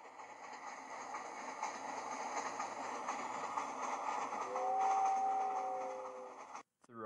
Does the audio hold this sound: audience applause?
no